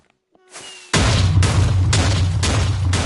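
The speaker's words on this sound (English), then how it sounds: "Next we have the airstrike" Explosions from an airstrike ability on a Minecraft SMP server boom loud and close in a rapid, continuous barrage after a brief quiet lead-in.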